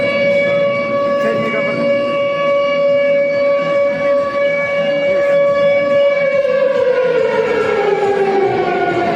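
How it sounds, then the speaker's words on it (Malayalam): A loud, sustained siren wails steadily for the whole stretch, its pitch sliding down near the end, signalling the start of a boat race at a church feast in Gothuruth, Kerala. "ആവേശകരമായ മത്സരത്തിലുള്ള സൈറൺ മുഴങ്ങിക്കഴിഞ്ഞു"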